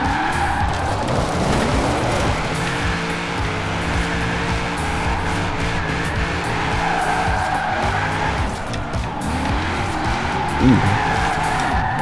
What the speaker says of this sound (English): That's why I said this engine might actually be really good for drifting.